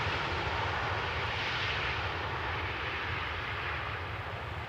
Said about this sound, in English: Typical KLM landing, keeping up the speed, staying on the runway